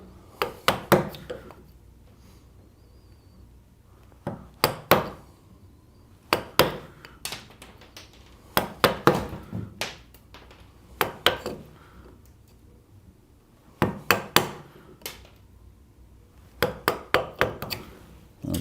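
A mallet drives a chisel while roughing out a wooden dovetail at a workbench, producing sharp close knocks in short bursts of several blows separated by pauses, with faint room noise between.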